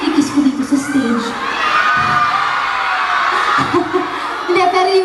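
A crowd at a live stage fan event in Davao shouts and cheers, shrill excited voices rising and falling in a dense, loud wash for several seconds.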